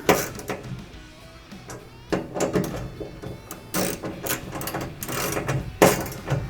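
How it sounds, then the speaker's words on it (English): A ratchet wrench tightens bolts on a bedside rack on a 4th gen RAM truck, giving clustered metallic clicks and clunks in short irregular bursts, close and fairly loud. "I'm going to go ahead and tighten down these 2 bolts."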